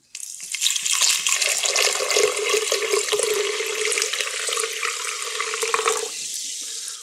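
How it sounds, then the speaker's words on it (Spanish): Sparkling water poured into a pineapple and white rum drink, a steady, close, fizzy splashing stream that runs for several seconds before easing off. "Le vamos a dar un golpe de agua."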